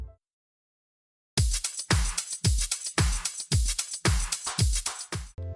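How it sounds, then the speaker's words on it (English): A punchy drum loop with kick hits and a steady shaker layered on top, looping evenly after a short silent lead-in. "I enhanced the drums a little bit by adding a shaker and another drum loop"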